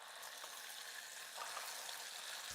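Steady crackling sizzle of chutney paste frying in hot tempering oil with dried red chilies over a low flame, close and continuous, swelling slightly louder partway through.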